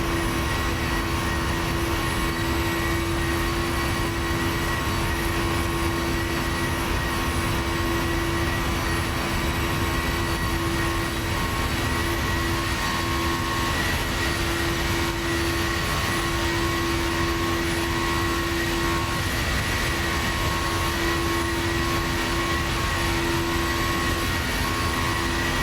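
Simulated airliner departing from Montreal in a flight simulator, its engines giving a steady, loud roar with a constant hum that holds throughout without a break.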